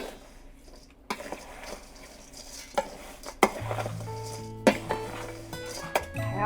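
Homemade granola ingredients, slivered almonds among them, being stirred together in a bowl, with scraping and clinking of a spoon and occasional sharp knocks, close and fairly quiet with no talking.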